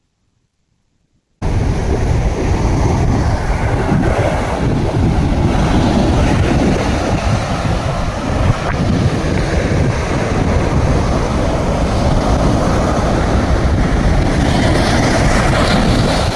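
Sea waves rolling onto a beach where people are fishing from the shore, a loud, steady roar of surf and wash mixed with wind buffeting, continuous after a brief silent start.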